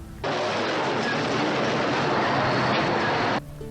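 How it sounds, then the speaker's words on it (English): Broadband rushing engine roar from a motorcycle passing outside an open window during a heat wave, steady and fairly loud for about three seconds before cutting off. "There's a motorcycle driving by."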